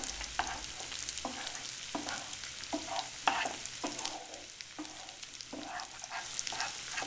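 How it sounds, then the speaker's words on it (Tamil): Ginger garlic paste sautéed in a pan with turmeric and curry leaves for pepper chicken chettinad, a steady sizzle under regular scraping stirs of a spoon, close and moderately loud. "மஞ்சத்தூள், இஞ்சி பூண்டு விழுது, கறிவேப்பிலையும் சேர்த்து இஞ்சி பூண்டோட பச்சை வாடை போகிற வரைக்கும்"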